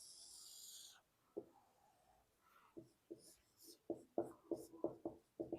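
Marker or chalk strokes on a board during a physics lecture on magnetic fields, coming as short scratchy taps in quick uneven clusters, close and fairly clear, with a brief hiss at the start.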